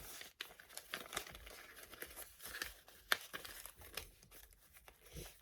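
Paper banknotes slid into a paper envelope give soft, close crinkling and rustling with a few sharper crackles, faint and intermittent over a few seconds, with no talking.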